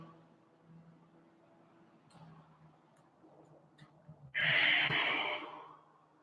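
A deep breath drawn in during a Kyokushin karate warm-up, a single loud rushing inhale rising near the end after a quiet stretch of low background hum.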